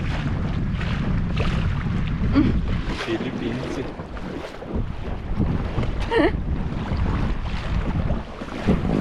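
A small boat moves across a lake on a windy day, with choppy water sloshing, heavy wind buffeting the microphone and a low engine-like rumble, while people talk over it.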